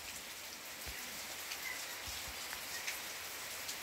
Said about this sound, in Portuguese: mais uma chuvinha aqui no sítio Mamoeiro